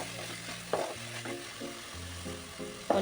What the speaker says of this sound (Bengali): এবার এগুলো সব ভালো করে একটু কষিয়ে নেব